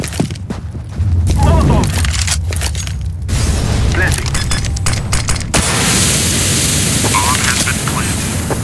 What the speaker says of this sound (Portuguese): I'm throwing flashbang.